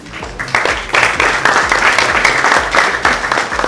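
Crowd applause at an Indian model-hunt contest swells in after a brief lull and holds as a thick, steady wash of clapping for the contestants.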